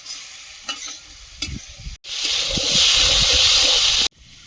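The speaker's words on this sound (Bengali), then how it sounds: "যে আলুগুলো গোটা গোটা দাকা দাকা থাকবে সেগুলো ভালোভাবে ভেজে নিয়েছি আর যেগুলো ডাল হবে সেগুলো দিয়ে আর একটু ভেজে নেব" Potato chunks frying in a pan for a Sundarbans-style potato dal, a few scraping stirs with a utensil, then a loud sustained sizzle and hiss that swells and cuts off abruptly, close and without talking.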